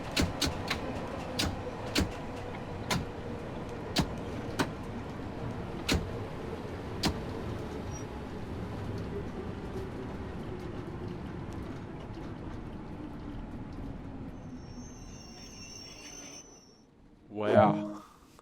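A London Underground train in Train Sim World brakes hard, its motor whine sliding steadily downward in pitch as regular rail clicks space out, before a brief louder clunk near the end.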